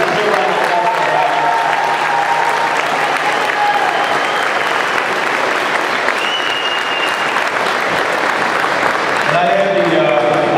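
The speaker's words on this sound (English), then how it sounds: "So please, give a round of applause for that." A crowd at a men's basketball national championship celebration breaks into loud, sustained applause lasting about ten seconds, dense and close, with voices calling out over the clapping.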